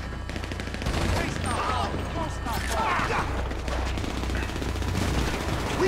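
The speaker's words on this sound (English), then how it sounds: "I'm trying to shoot Lamar" Rapid gunfire in the video game GTA V, dense bursts of shots and mechanical clatter running throughout, with game character voices and player talk mixed in over it.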